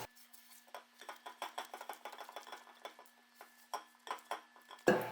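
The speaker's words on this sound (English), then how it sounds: "I'm just going to mix the sides in well." Blueberry buckle cake batter with milk being stirred in a bowl, a quick series of soft clinks and scrapes from a utensil against the bowl's sides, close and fairly quiet, ending in a louder knock.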